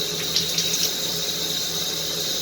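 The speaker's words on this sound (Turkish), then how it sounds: "Suyu açıyoruz." Water running through a gas water heater with a refitted fan motor from another boiler, a steady close hiss of flowing water from a tap, continuous and fairly loud with no talk.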